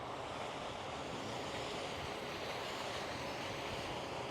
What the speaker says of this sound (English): You've got this nice waterfall feature.